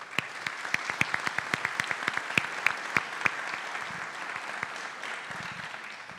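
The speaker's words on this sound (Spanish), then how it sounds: "Fuerte aplauso, por favor." An audience at a public security and justice forum in Mexico City applauds, with sparse, crisp claps from a modest crowd that build quickly, then thin out and fade over several seconds.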